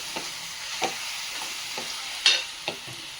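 Paneer stirred into half-cooked vegetables in a pan, with a light sizzle and about six soft spatula scrapes spread evenly across the stretch, no voices.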